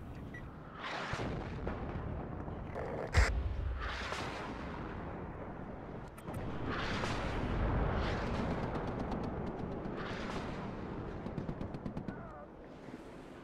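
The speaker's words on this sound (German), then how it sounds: "nächste Artillerie, die uns da nervt" Artillery fire in the real-time strategy game WARNO: repeated distant booms and rumbling blasts that swell and fade every couple of seconds, with one sharp crack early on, continuous battlefield rumble underneath.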